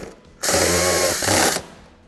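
A power drill drives a self-tapping screw straight into the body of a 2008–2012 Renault Kangoo II van, giving one loud, steady whirring burst of about a second with a slight change in pitch near the end.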